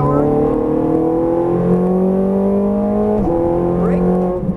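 Ferrari F430 Scuderia engine accelerating hard at full throttle on a track, a loud, close harmonic howl climbing steadily in pitch, briefly dropping at a gear change, then rising again, with continuous roar throughout.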